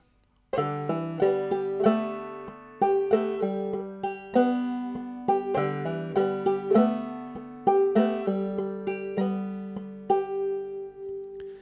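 A clawhammer-style banjo plays a plucked melody alone with the brushstrokes dropped out, a run of bright ringing picked notes in an uneven lilting rhythm with no strummed chords.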